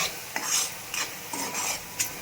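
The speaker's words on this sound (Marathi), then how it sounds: "आता मसाला पटकन भाजायसाठी टाकावा लागतो" Spice masala roasting and being stirred in a pan while making chole, with a few soft stirring scrapes over a light steady sizzle, close by and with no talking.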